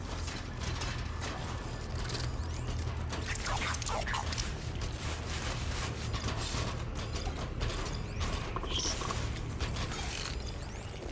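Mechanical machine creature in Horizon Forbidden West on a PS4 Pro, a steady whirring, ratcheting and grinding clatter of gears and moving parts, continuous and fairly faint with no talk.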